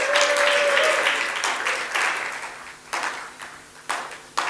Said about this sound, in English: Would you please just give them a round of applause